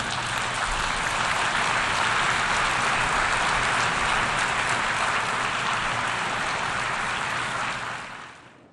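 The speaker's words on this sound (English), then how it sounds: "A round of applause there for U.S. President Joe Biden" Sustained applause fills a large hall after a speech by U.S. President Joe Biden at the United Nations General Assembly in New York, a dense, even roar of clapping that holds steady for about eight seconds before fading out.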